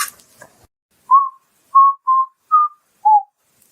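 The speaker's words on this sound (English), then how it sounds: "We were talking about the whistling that was going on down there." Five short, clear whistle notes in a rising and falling pattern sound in a quiet space during an investigation at the Alley Theater, evenly spaced and unaccompanied after a faint rustle.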